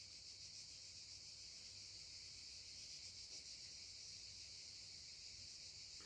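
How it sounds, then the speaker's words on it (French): Cicadas sing at sunset, a faint, steady high-pitched buzzing drone that continues unbroken throughout, heard from a distance with no voices. "Vous entendez les cigales?"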